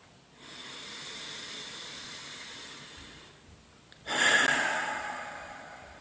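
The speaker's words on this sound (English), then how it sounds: "First, we can breathe in the nose and out the mouth." A person breathes deeply during a guided third-eye meditation, drawing a long, soft inhale through the nose, pausing, then releasing a louder, breathy exhale through the mouth, close and alone.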